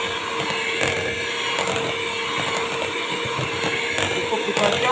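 An electric mixer on speed one beats butter and eggs for rolled nastar cookie dough, a steady whirring drone with scraping clatter throughout, fairly loud and close.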